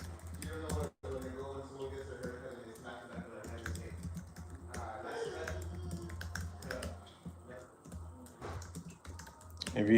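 Computer keyboard typing and mouse clicks come from someone editing at a desk, rapid irregular close taps running throughout, with a voice talking faintly in the background.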